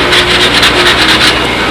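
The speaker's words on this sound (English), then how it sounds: "I'm getting all my edges trued here. Kind of a final sanding." Close, loud rhythmic sanding of balsa model airplane wing edges, a series of quick back-and-forth rasping strokes repeating steadily without any talk.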